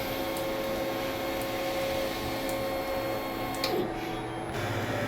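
An ink tank printer runs a nozzle check, giving a steady mechanical whir with faint tonal hum and a few light clicks and shuttle movements, fairly close and alone.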